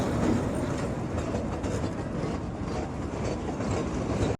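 A train rumbles past close by at Dhari railway station, wheels clattering steadily over the rails, then the sound cuts off abruptly.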